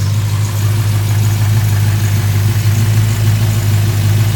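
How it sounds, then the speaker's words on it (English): A Plymouth GTX engine with a Mopar Performance purple camshaft idles steadily up close, a loud, even low rumble with a constant hum and no pauses or changes in pitch. "The engine is very quiet and nice."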